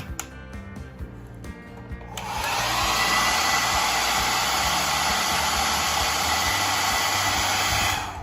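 A hair dryer switches on and blows hot air steadily onto a DHT temperature sensor in a smart home fan setup, a loud constant whooshing roar that runs for several seconds after a few quiet clicks.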